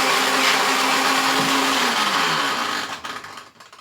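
A kitchen blender purees vegetables for a vegetable biryani, a loud steady whirring roar with a slight pitch dip midway, then winding down and stopping near the end.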